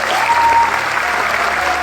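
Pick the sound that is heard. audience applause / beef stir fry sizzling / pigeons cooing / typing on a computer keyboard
audience applause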